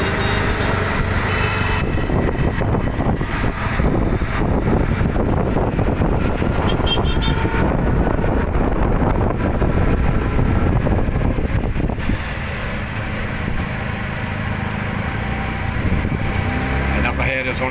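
A PassApp ride-hailing vehicle moves through town traffic, with a loud constant road and engine rumble and wind buffeting, some rattling, and a faint horn toot, and no talk.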